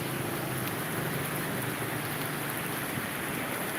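Steady rain pours on garden plants on a wet Saturday afternoon, a dense, even hiss that runs unbroken from start to end with no voices.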